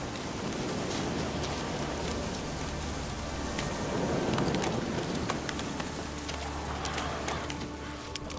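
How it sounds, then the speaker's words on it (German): Steady rain in the video game The Witcher 3 hisses and patters continuously, a dense, even wash of falling drops with no voices over it. "Ah, jetzt wird's dunkel, es regnet"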